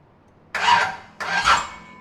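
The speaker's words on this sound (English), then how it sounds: "I'm going to bump the engine around in the direction of rotation" An engine being turned over by hand in its direction of rotation during a valve lash check makes two short raspy mechanical bursts, close and moderately loud, separated by a brief pause.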